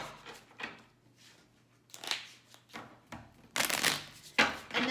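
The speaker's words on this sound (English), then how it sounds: "So I'm gonna take my deck of cards" A deck of playing cards being shuffled in a few short riffling bursts, the loudest near the end, close and moderately loud with no talking.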